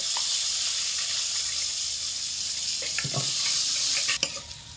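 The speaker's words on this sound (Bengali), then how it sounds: "কড়াইতে যেটুকু তেল আছে তাতে গাজর ভাজা হয়ে যাবে। গাজরের পিসগুলো দিয়ে দেব।" Carrot pieces frying in oil in a wok make a loud, steady sizzle close by, with a few stirring scrapes and a clink of utensils near the end.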